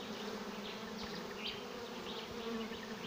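Honey bees buzz around a swarm trap bucket, a dense continuous hum of many insects heard close up and alone, steady and even throughout.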